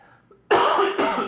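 A single sharp cough from a man with a dry throat, loud and close, with a second burst close behind it, in a quiet room.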